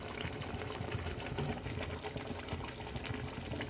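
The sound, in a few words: ghee being added to the cooking pot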